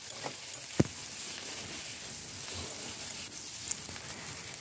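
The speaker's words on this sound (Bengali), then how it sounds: "এগুলো আমি একটু ভেজে নেব।" Vegetables fry softly in a pan with ginger garlic paste, giving a low steady sizzle marked by a couple of sharp utensil taps.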